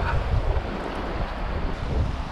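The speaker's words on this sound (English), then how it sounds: "It's quite windy." Wind roars across the microphone in a steady, close rumble with no pauses, like blustery open-water conditions, at a waterside fishing spot while solo camping.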